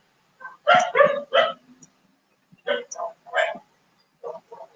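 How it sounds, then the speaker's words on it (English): Dogs bark nearby in loud, short clusters of two or three yaps, with quiet pauses between the bursts. "so dogs are irritating us here"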